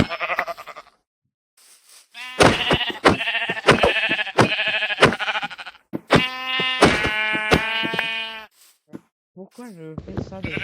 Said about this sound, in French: Pourquoi je tabasse que des moutons?